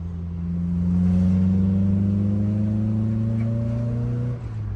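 A 1987 Toyota AE86 with its 4A-GE engine accelerates up close, its loud, steady drone climbing smoothly in pitch for about four seconds before easing off, with no talking.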